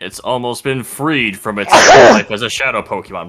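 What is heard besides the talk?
sneeze into the microphone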